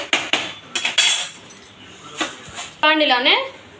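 Metal utensils clink and scrape against a frying pan while fried food is moved into another vessel, a handful of sharp, close clatters spread unevenly, with a voice speaking near the end.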